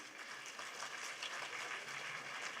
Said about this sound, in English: A louder round of applause, please.